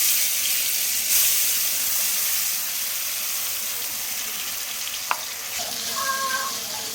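Ground spice paste sizzles in hot oil with whole garam masala and dried chillies for a rohu fish korma, giving a steady close frying hiss with a single brief clink near the end, no voices.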